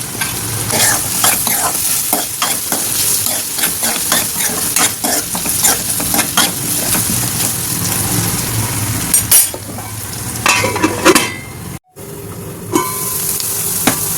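Onions with turmeric and salt sizzle steadily in a hot pan while a spoon scrapes and stirs them in repeated strokes, loud and close, with a brief pause near the end before frying resumes.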